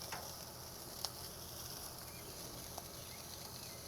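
Steaks sizzling on a barbecue grill at a 4th of July cookout, a faint, steady hiss and crackle with a couple of small pops, heard alone without talk.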